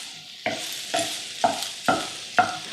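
Sausage sizzles in a hot pan, with five regular stirring scrapes roughly every half second cutting through a steady hiss of frying fat, close and fairly loud.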